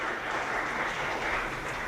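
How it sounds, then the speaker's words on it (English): A symposium audience on traditional medicine applauds the moderator and discussants, producing a brief, steady wash of clapping from a large room that holds at an even level. "Let us give another round of applause to the moderator and the discussants."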